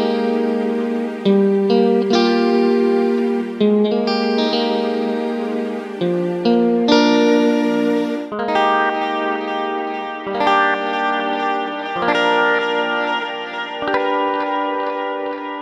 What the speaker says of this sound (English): both units allow you to mix your normal guitar sound with a synthesizer